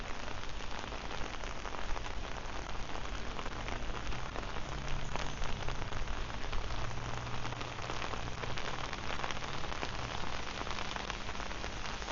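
Steady rain pours on surfaces throughout a morning walk in Kathu, Phuket, Thailand, a dense continuous hiss holding level from start to finish with no voices.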